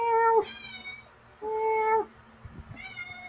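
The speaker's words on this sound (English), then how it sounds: "this cat's just meowing like crazy" A domestic cat meowing insistently indoors, three drawn-out meows close by with short pauses between them and a soft fan hum underneath.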